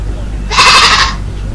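A goat lets out a single loud, wavering bleat, close by, over a low steady background hum.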